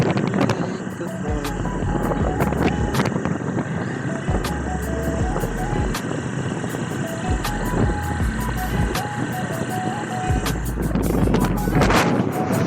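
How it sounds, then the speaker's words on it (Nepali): Wind buffets the microphone during a ride along a rural road toward a village. Low, gusty rumbles come in uneven bursts and stay loud throughout, with some voices and other noises mixed in. "कस्तो दामी हावा चल्यो यार"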